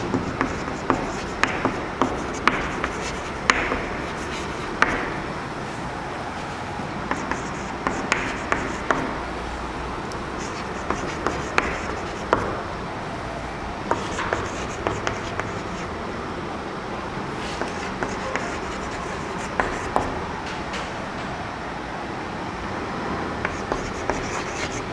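A pen writes out the set of rainbow colours, giving close, steady scratching strokes with frequent small taps as each letter is formed, over a constant background hum of traffic.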